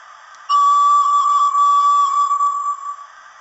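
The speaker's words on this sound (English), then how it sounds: "the whistle" A Flying Scotsman model steam locomotive with DCC sound blows a clear, steady whistle that starts sharply and holds for about two and a half seconds before fading, close and loud with no talk.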